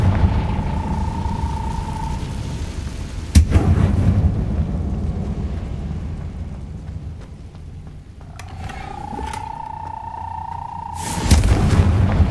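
Confringo fire spells bursting in Hogwarts Legacy, two heavy booming blasts several seconds apart, each preceded by a rising magical whistle tone, with rumbling game ambience between them.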